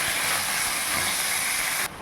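Tomatoes and shallots sauté in a pan for a Tamil tomato kuzhambu, giving a steady, close sizzling hiss that runs evenly before dropping off abruptly near the end.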